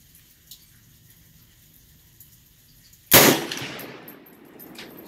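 A Bear Creek Arsenal 7.62x39 rifle fires a single loud, close shot on a second strike after a misfire, breaking a quiet stretch of faint clicks, followed by a decaying echo.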